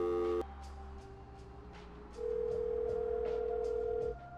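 A telephone tone from the video game Vampire Bloodlines: a steady electronic call tone holds for about two seconds over a busy game background with faint rhythmic ticks, after a short initial beep.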